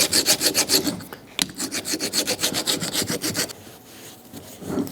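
Rhythmic rasping strokes of a flat file scraping metal flat during a Toyota Tacoma front brake job, about a dozen passes, close and fairly loud, with a brief pause midway.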